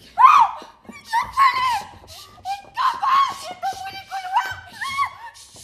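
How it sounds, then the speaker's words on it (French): A person screams in a series of loud, strained, high-pitched cries, close and uneven, with breaks and some laughing or snickering sounds between bursts. "Calme-toi et arrête de hurler."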